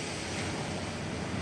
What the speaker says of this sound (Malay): bunyi ombak